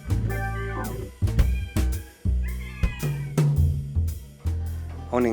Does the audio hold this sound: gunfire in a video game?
no